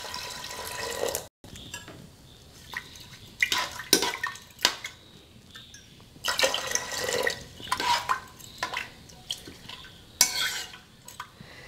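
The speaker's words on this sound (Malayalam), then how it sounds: "വെള്ളം ഒഴിക്കാം." Water poured into a cooking pot holding wheat, lentils, fenugreek and leaves for porridge, heard as a series of splashing, sloshing bursts with light clinks of the pot in between, fairly close and with no talking.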